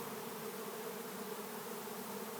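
A live bee swarm buzzes densely and continuously around the capture box, a loud, close, unbroken drone with no voices.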